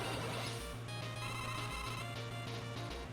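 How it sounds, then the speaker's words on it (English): A phone alarm rings in a repeating electronic pattern, fairly quiet and continuous for about three seconds, mixed in with video game sounds. "I need to turn off my phone alarm"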